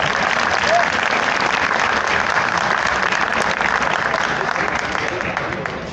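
Dense, steady applause from an audience at a Hindi department event at Jamia Millia Islamia, welcoming Saurabh; continuous clapping fills the room throughout at an even level, easing slightly at the end.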